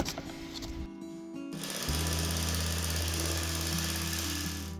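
Bag-closing sewing machine stitching a seed tag onto the top of a bag of organic Maine seed potatoes, a steady loud mechanical whir that starts after a brief quieter stretch and runs continuously, close with no talk.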